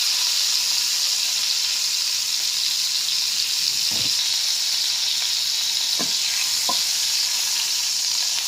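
Mutton keema sticks fry in hot oil, a loud continuous hiss of bubbling oil with a few distinct splashes or scrapes as oil is spooned over them, no voices.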